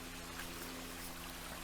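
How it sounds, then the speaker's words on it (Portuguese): A small waterfall flows in a steady, continuous rush of water, faint and even, with no voices over it. "Tô chegando aqui na cachoeirinha. Vocês estão ouvindo o barulho?"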